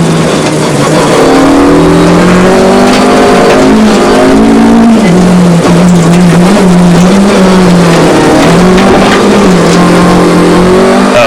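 Rally car screaming along a special stage at the 2001 Rally of South Africa, heard from inside the cockpit of a VW; the engine holds a loud, steady whine with rising and falling revs and gear changes throughout, no talk.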